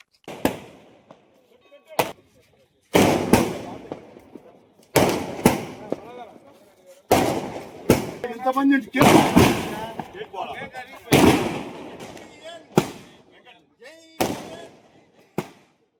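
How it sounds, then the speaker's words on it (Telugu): Firecrackers set off in large numbers by party supporters at a political celebration, sounding as a series of sharp, loud bangs and crackling bursts at irregular intervals, some close together, with quieter gaps between. "టీడీపీ శ్రేణులు భారీగా బాణసంచా కాల్చి సంబరాలు జరుపుకున్నారు."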